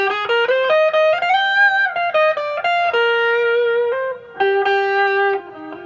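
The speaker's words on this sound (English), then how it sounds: "This is distortion." A heavily distorted electric guitar plays a short melodic phrase with sustained, buzzy notes, alone and close.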